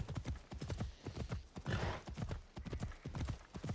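Horse hooves clip-clop at a steady walking rhythm in Assassin's Creed Shadows, each footfall distinct and close, with a brief whinny-like breath in the middle and faint ambient sound beneath.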